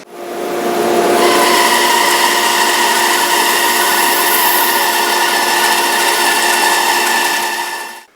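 A power saw runs steadily, cutting shop-sawn wood veneer guided along a fence. The motor whine is loud and close, holds level for about seven seconds and then cuts off.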